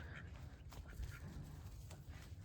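A pet duck named Quacks gives faint, scattered quacks outdoors at night by a pool, heard quietly amid low background hum.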